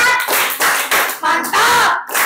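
A group claps out the rhythmic "tepuk mantap" chant in a classroom, several short, loud bursts of clapping in a quick pattern with voices chanting along.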